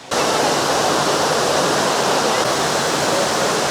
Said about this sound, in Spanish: nos encontramos ahora pues en la caída de la cascada